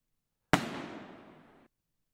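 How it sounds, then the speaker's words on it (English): A single firecracker bursts in the Cartonfall video game: one sharp, loud crack followed by a broad crackling hiss that fades over about a second, then silence. "It's just a firecracker."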